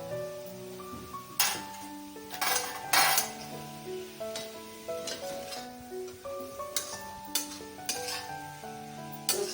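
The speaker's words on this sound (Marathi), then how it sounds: "परतून घेते आणि तो खवा मिक्स होईल त्यामध्ये" A coconut and khoa mixture sautés in ghee for coconut vadi as a utensil stirs it, with soft sizzling under intermittent scrapes and clinks against the pan and a tonal hum running through, close by and without speech.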